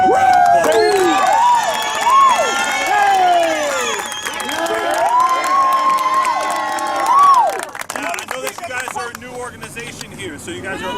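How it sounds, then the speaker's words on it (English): A crowd at a 2017 football championship trophy ceremony cheers with loud whoops and rising shouts, then claps in scattered bursts as the noise fades. Voices talk over the celebration. "Give him a round of applause"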